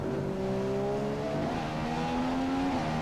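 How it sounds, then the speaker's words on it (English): A McLaren Honda Formula 1 car in the F1 2015 racing game, its engine holding a steady high whine with slight pitch shifts, continuous and moderately loud, no voices. "And let's listen to the McLaren Honda."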